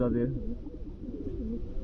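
Pigeons offered for sale coo softly in low, rolling calls under a man's speech.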